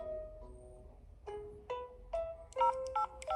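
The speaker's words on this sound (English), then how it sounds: "She took her phone and called the police." Telephone keypad tones as a phone is dialed to call the police, a sound effect in a short spoken story: a series of short, clear beeps, sparse at first, then quicker in the final second.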